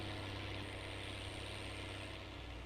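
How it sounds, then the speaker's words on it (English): Tractor engine in Farming Simulator 19, a steady low droning rumble with a constant mid-range hum, moderately quiet and unbroken with no voices over it. "This tractor's quite noisy"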